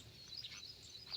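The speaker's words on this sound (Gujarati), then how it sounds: "જો મસ્ત ચકલા બોલે છે" Sparrows chirp faintly in the distance, a few short high tweets scattered over a quiet outdoor background.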